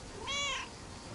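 A single game cat gives one clear, close meow with a rising-falling harmonic tone, standing alone over a low steady background hum.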